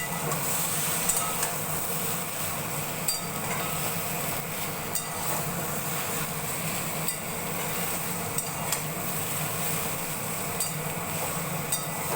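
Ginger sautéed in a pan gives off a steady, even sizzle for the whole stretch, with a few faint clinks of a utensil against the pan.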